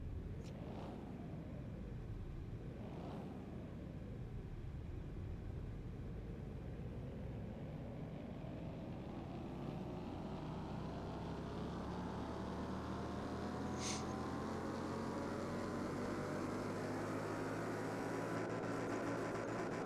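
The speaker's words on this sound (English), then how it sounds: "we'll just put her on the dyno and we'll see what happens" An Audi TT 1.8T engine on a dyno in Car Mechanic Simulator 2021 revs twice, then winds up in one long, rising sweep, its tone climbing steadily as the run goes on.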